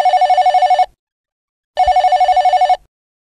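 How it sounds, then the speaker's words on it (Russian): A children's toy telephone from an activity-center toy rings electronically in two loud bursts, each under a second long, separated by a silent pause of about a second. "Телефон продемонстрирует ребенку прекрасную ролевую игру."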